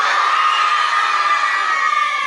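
An audience at an air quality presentation cheers and shouts loudly in a dense, sustained roar of many voices with no gaps.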